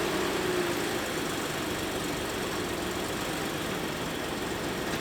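A Ford Explorer Limited AWD engine idles steadily right after starting, a constant low rumble holding even and close throughout, slightly louder in the first second.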